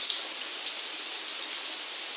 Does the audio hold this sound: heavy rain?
yes